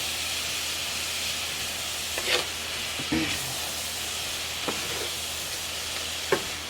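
Canned mushrooms sautéing in a pan, a soft steady sizzle and hiss with a few scattered stirring clicks and scrapes, fairly quiet and without talk.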